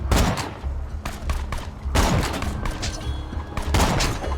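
Repeated loud gunshots in the Borderlands video game, several heavy bangs from a sniper rifle spaced irregularly with booming tails amid game background noise, close and prominent.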